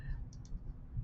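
A computer mouse clicks twice in quick succession, small crisp taps over a low background hum in a quiet room.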